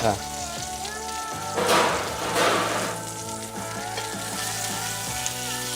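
Mapo tofu dumplings searing in a hot pan give a steady close sizzle with a couple of louder hissing bursts and light clatter.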